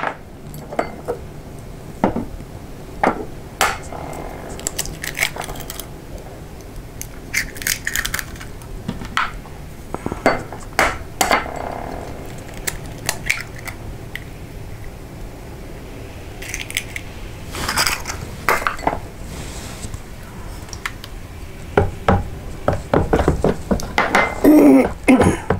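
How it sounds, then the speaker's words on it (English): Two large eggs cracked against a bowl edge and dropped into banana bread batter, a handful of sharp clicks and taps spread among scattered clatter of utensils and bowls, fairly close, with no talking. "Now we add to this 2 large eggs."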